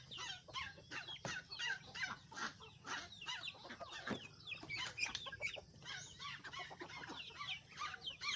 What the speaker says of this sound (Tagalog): itong mga pato ang bibilis naman kasi kumain ba